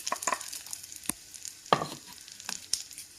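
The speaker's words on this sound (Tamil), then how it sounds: "எண்ணெய் விட்டு கொஞ்சமாக கடுகு சேர்த்துக்கலாம்." Mustard seeds and ground spice powder frying in oil for masala sundal: quiet crackles and sharp pops scattered irregularly, with a few louder stirring scrapes, all fairly faint and free of talk.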